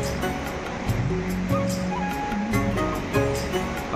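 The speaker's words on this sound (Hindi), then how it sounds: "और इधर है गाइस झरना, देख सकते हैं बहुत बड़ा ऊंचा है" Dangari Waterfall in Jashpur, Chhattisgarh, a tall, large falls, pours as a constant rushing wash of water, while people's voices talk over it nearby.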